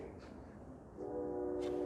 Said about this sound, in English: Every time we go to do a video, the train comes.